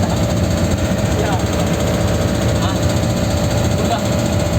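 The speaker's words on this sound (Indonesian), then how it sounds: "Mesinnya kan suara mesin." A vehicle waiting in a queue idles with a loud, constant engine drone and vibration, steady throughout with no change in pace and no voices heard.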